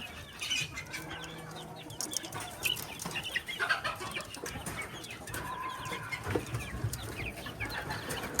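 Domestic deshi chickens kept confined in a rooftop coop cluck and chatter nearby, with overlapping calls, occasional wing flaps and rustling throughout.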